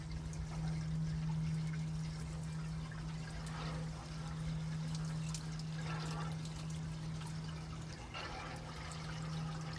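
Water pours and trickles into the radiator of a 1926 Model T Ford truck, a faint, uneven splashing over a steady low hum with a few louder gurgles.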